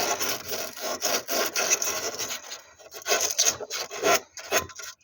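Hand sanding of a brake pipe on a Hillman Super Minx with sandpaper, rapid rhythmic scratchy strokes, close and fairly loud, with no talking.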